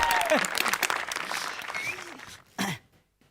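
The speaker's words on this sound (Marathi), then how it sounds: "जोरदार टाळ्यांनी त्यांचं स्वागत करायचं आहे जोरदार टाळ्या जाऊ द्या" An audience claps to welcome a speaker at a gathering, a short burst of loose hand claps mixed with a voice and a throat clearing, then a brief final flurry before it falls silent.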